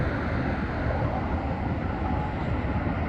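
A Norfolk Southern mixed freight train hauled by EMD locomotives passes along the Allegheny River, a steady, continuous broadband rumble and rail roar held at moderate level throughout.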